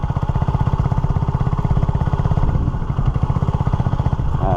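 A Honda CB250RS motorcycle engine runs steadily throughout, a close, continuous rhythmic thrum with clattering mechanical texture and no clear gear changes.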